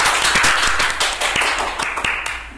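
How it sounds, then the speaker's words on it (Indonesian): A small studio audience for a livestock health podcast claps briskly and closely, a steady run of individual hand claps lasting a couple of seconds. "Tepuk tangan dulu dong"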